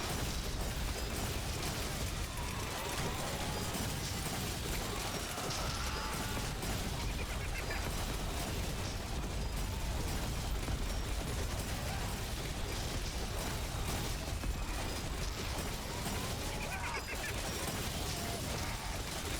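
Shrapnel explosions in the zombie shooter Yet Another Zombie form a constant dense barrage of pops, bursts and mechanical clatter that never lets up, loud and close throughout with no talk.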